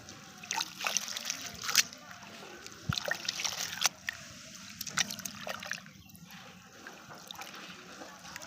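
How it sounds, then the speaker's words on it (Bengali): Water splashes and sloshes in short bursts as pigeon feed is rinsed by hand, with occasional trickling and a quieter pause near the end. "ভালো করে আগে ধুয়ে নিই"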